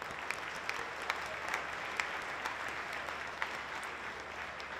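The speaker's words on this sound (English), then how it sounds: "Another round of applause for them this evening." A gala audience applauds throughout, a steady dense wash of clapping from a large crowd that holds at an even level from start to finish, with a few sharper individual claps poking out.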